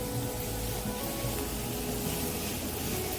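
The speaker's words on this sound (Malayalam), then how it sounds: "ഈ ഉള്ളി നന്നായിട്ട് വഴറ്റിയെടുക്കാം" Onions sauté in a pan with salt and turmeric, giving a steady, faint sizzle that runs without pause and with no one talking.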